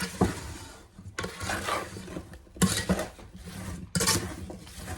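Apple pie filling is stirred in a small foil pan, with bursts of crinkly scraping and rustling in three or four strokes separated by short pauses, close and moderately loud.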